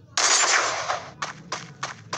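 Gunfire in the mobile shooter Free Fire: one long rattling automatic burst, then four short rapid bursts in quick succession, loud and close.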